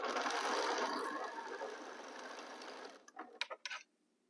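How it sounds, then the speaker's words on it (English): A sewing machine stitches fabric, running loud and steady for about three seconds as pieces are joined, then slowing into a few short separate bursts before stopping. "let's continue sewing"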